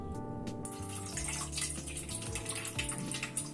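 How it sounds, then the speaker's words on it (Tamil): Soaking water drained off ragi vermicelli in a kitchen, a steady splashing pour with running-water hiss and shifting tones as the flow changes, close and continuous without talk. "இப்போ இது ஊறின தண்ணியெல்லாம் நம்ம வடிச்சு எடுத்துடலாம்."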